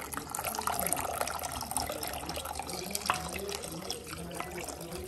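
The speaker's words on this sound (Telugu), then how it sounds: "ఇప్పుడు మనం వాటర్ యాడ్ చేస్తాం." Water runs steadily into a dal mixture being cooked for pachi pulusu, a continuous trickling splash under faint background noise.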